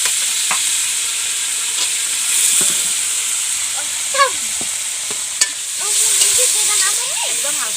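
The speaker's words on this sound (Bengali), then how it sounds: "তেলটা গরম হয়ে গেছে, আমি এখন পনিরগুলো ভেজে নেব।" Paneer cubes frying in hot oil for a vegetarian masala paneer, a continuous close sizzle with scattered pops and clicks and swelling bursts of hiss.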